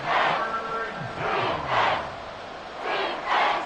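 Simulated football crowd in an EA Sports game swells in roaring cheers, three or four rising and falling waves of distant massed voices with bursts of shouting.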